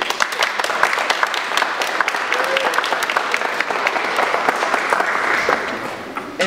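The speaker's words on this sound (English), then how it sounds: "you clap, you make noise with your hands, because hearing people can hear" Audience clapping at an art exhibition, a dense, steady round of applause from a moderate-sized group, close and continuous throughout with no talking.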